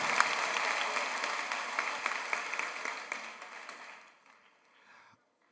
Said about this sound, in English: Let's give another round of applause for all our student speakers